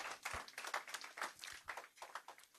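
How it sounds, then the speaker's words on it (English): Applause from a seminar audience, a faint patter of many hands clapping steadily at a distance with no voices over it. "I think Doctor deserves another round of applause"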